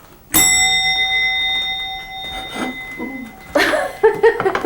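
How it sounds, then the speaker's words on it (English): A bell in a roast duck cooking setting strikes once loudly and rings out with a long sustained tone, followed by light clattering and brief laughter. "what is this bell for?"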